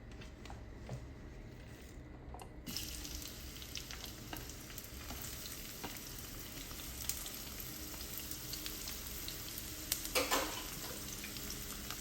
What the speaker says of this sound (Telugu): ఫస్ట్ ప్యాన్లో ఆయిల్ వేసుకొని ఆనియన్స్ వేసుకోవాలి.